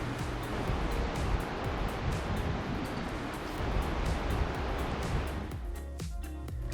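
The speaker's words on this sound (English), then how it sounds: "stopping at La Push to watch the sunset over the Pacific Ocean" Pacific Ocean surf rolling onto the beach at La Push at sunset, a steady soft wash of waves with light wind noise, no voices.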